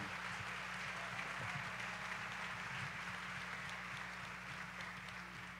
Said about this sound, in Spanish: mientras todos los que estamos presentes le damos la bienvenida con un fuerte aplauso